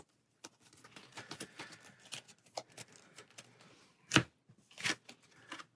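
Cards from an Aeon's End deckbuilding game are shuffled by hand: a run of quick papery riffles and taps, close and fairly quiet, with two sharper bursts near the end.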